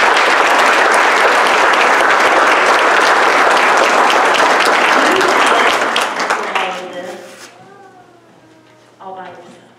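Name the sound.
congregation applause for the pastor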